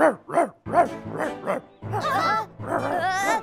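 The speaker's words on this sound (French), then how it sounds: "Pourquoi il aboie sur nous?" A cartoon dog barks repeatedly in quick bursts, close and loud, with rising yelps and whiny notes breaking in toward the end.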